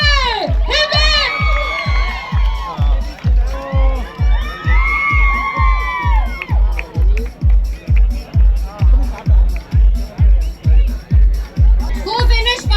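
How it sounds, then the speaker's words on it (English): At a college health-awareness 5K run, a crowd cheers and shouts over a loud, steady pounding beat, with voices whooping and calling throughout. "Give them a big round of applause."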